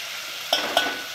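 Onion paste sautés in a pan for chicken biryani, a soft steady sizzle broken by two quick scraping stirs of a spoon close by.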